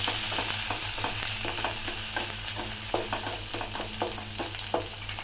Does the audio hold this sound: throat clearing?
no